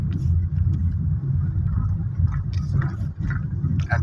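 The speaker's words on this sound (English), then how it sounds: "traffic yan. Kasi mga pumapasok ng mga sasakyan." Steady car traffic rolls along Katipunan Avenue near Ateneo de Manila University during school days, a continuous close engine rumble with passing vehicles and faint mid-range noise throughout, no talk.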